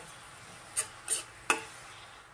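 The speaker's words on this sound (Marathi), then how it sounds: "थोडंसं मीठ टाकून आपण चांगला सोनेरी रंगावर आपण आता भाजून घेऊया" Onions with a little salt roasting to golden in a pan for Nagpur-style Saoji dal kanda: a faint, steady sizzle with three brief, sharp scraping clicks as they are stirred.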